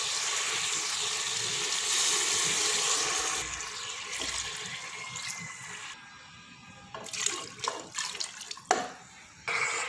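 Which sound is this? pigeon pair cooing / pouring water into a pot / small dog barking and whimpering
pouring water into a pot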